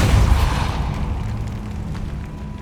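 Depulso force spell cast in Hogwarts Legacy: a sudden heavy blast with low rumble that decays slowly over a couple of seconds, no voices present.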